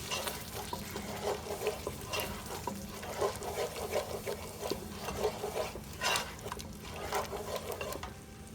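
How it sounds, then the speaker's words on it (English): Korma sauce with turmeric powder simmers and bubbles in a pan, a soft continuous sizzle with gentle stirring scrapes, quiet and close, and no voices. "Okay, so now I'm adding my turmeric powder. Same thing. Let it cook, let it simmer in the sauce."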